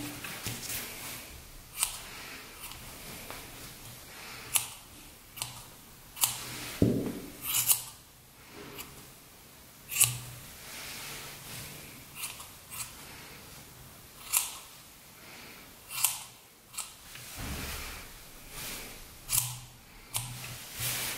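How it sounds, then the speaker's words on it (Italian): Scissors trim the tied yarn threads of a handmade pompom, with crisp close snips repeating at irregular intervals and no talk. "ecco che ho un pompon che adesso con le forbici andrò ad ugualizzare"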